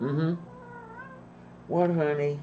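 A cat gives two close meows, one short and one longer, with a person speaking quietly between them in a home.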